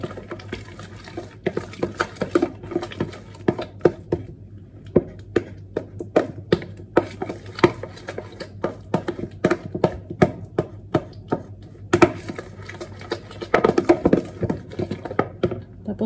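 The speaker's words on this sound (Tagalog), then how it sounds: "lagyan natin ng isang itlog. Tapos haluin mo lang muna siya." Egg being mixed into banana muffin batter by hand, with a utensil clacking steadily against the bowl in quick irregular taps and scrapes, close and fairly loud, with no talking.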